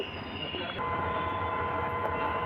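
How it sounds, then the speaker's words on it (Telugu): A train rumbles at Adilabad railway station with a steady mechanical hum and a faint high tone, the sound growing slightly louder partway through. "ప్లాట్ఫామ్ల మీద ఏ విధంగా అయితే రైలు వస్తుందో"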